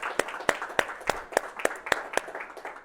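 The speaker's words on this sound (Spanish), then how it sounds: "Dale un aplauso al Señor." A Spanish-speaking church congregation gives the Lord a round of applause after a prayer: sharp, rhythmic unison claps about three per second, fairly close, with no talk.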